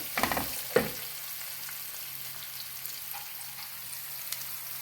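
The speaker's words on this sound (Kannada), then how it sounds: "ಈಗ ನೀಟಾಗಿ ಮಿಕ್ಸ್ ಮಾಡ್ಕೊತೀನಿ" Mango rice (chitranna) is stirred with salt in a pan: a couple of quick scraping, clattering strokes at the start, then a soft, steady background hiss.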